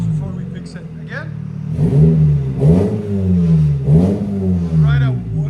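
A 1987 Toyota MR2 with the 1.6-liter 4A-GE engine and a blown-out muffler revs up and down several times, loud, raspy and close by, with rising and falling engine pitch.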